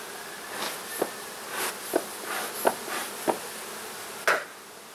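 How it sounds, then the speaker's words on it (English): A dense, steady hum of honeybees swarms around an open, healthy beehive, close and fairly quiet, broken by several sharp taps and knocks from hive work. "There's a lot of bees here."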